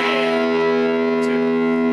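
Overdriven electric guitar, a single loud sustained distorted chord ringing with effects and slight reverb, close and steady for the whole moment, no voices.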